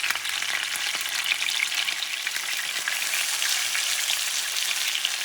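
Chicken pieces sizzle in a pan for pollo guisado, a dense, steady crackling fry that runs loud and unbroken for several seconds, close up with no talking.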